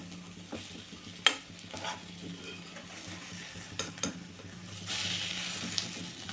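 Eggs fry in a pan for egg curry, with a close, steady sizzle broken by sharp clinks and scrapes of a utensil turning them. Nobody speaks.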